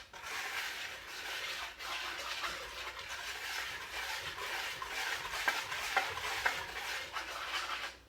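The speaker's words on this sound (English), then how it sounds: "It is my little whisk. So we're just going to mix this together to just start incorporating things." A small whisk stirs cake flour and cinnamon in a bowl, a continuous soft scraping swish with faint ticks against the sides, close and steady, with no one talking.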